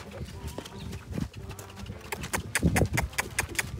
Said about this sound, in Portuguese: O que vocês acharam aí do potro Van Gogh aí